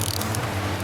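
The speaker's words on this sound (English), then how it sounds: "My drag is just coming out of the reel." A fishing reel's drag buzzes out steadily as a hooked kingfish runs with the line during trolling, a brief, close mechanical whir.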